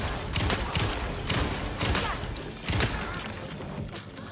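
Rapid bursts of gunfire in the video game Alan Wake 2, loud close volleys of shots and thuds repeating roughly every half second to second, with no talking.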